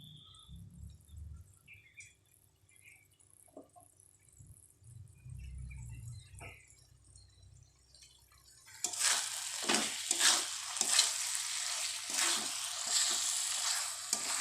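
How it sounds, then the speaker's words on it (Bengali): Cut potatoes fry with spices in a pan for mutton curry: after a quiet stretch, loud close sizzling and stirring scrapes start abruptly and continue to the end. "কেটে রাখা আলুগুলো দিয়ে দেওয়া হচ্ছে মশলার সাথে, দিয়ে ভালোভাবে ভেজে নেওয়া হবে"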